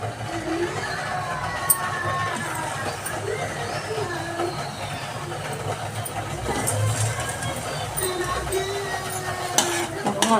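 Gulab jamun deep frying in Govardhan ghee, a steady low bubbling sizzle with occasional clinks of a utensil against the pan, heard close and continuous.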